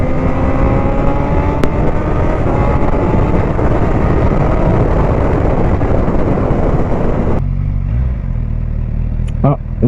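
A Honda CBR1000RR Fireblade sport motorcycle roars loudly and continuously as it accelerates, pitch climbing through the gears, with wind rush throughout and a sudden drop in engine sound near the end.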